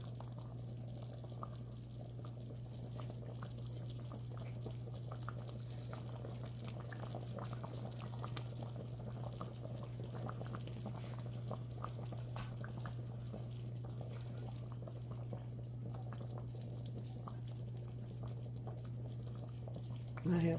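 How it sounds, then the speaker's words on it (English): Gravy with country fried steaks simmers on low heat, a quiet, even bubbling and burbling that stays steady and faint throughout over a low background hum. "let it simmer on low for about an hour"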